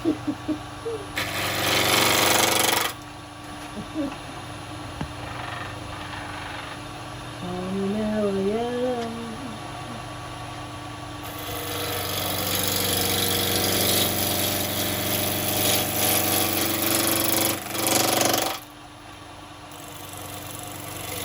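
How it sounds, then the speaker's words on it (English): Spindle gouge cutting wood on a woodturning lathe, loud broadband bursts of cutting that come and go across the stretch, with the lathe's motor hum underneath and a voice speaking in between. "So I'm using the 1/2-inch spindle gouge."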